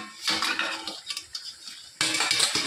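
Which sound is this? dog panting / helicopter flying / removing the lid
removing the lid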